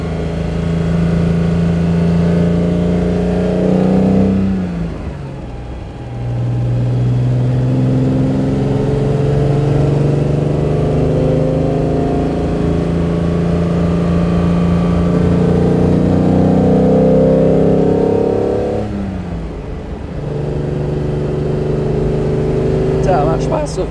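A 1957 Mercedes 300 SL Roadster drives along with a loud, steady engine drone heard from on board, shifting pitch through two gear changes where the revs drop and rise again.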